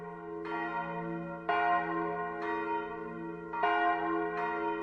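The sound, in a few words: church bells ringing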